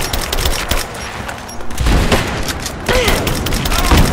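Bursts of shotgun fire in Rise of the Tomb Raider, loud and close, with repeated heavy blasts through a busy battle and someone talking over the shooting.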